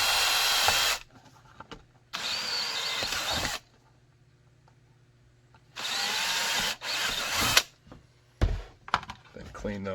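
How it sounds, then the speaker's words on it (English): Power drill bores retention screw holes in a kydex holster for a Ruger SR9, two long close whirring bursts separated by quiet, followed by shorter drilling spurts and handling clatter. "And you can go ahead and drill your retention screws."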